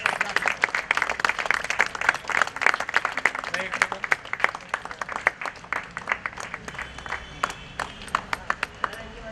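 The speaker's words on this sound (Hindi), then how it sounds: "तालियां चालू रखिए। तालियां बजाइए।" Audience applause at a Sardar Vallabhbhai Patel Jayanti celebration, dense scattered clapping throughout, thinning toward the end into a few separate claps, with crowd voices mixed in underneath.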